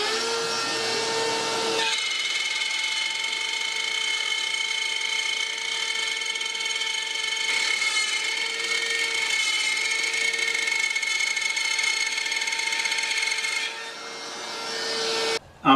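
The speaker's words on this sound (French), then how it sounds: "je vais tout de suite recreuser celle-ci un petit peu plus creux" A power tool hollows out a wooden woven cutting board in a continuous loud whining grind with steady high tonal hum, holding even for many seconds before cutting off at the end, with no talk.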